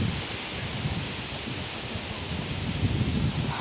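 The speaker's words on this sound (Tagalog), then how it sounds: "Kusog kayo hangin diri guys" Strong wind blows across a farm, a constant rough rush and buffeting against the microphone, with low rumbling gusts and no talk.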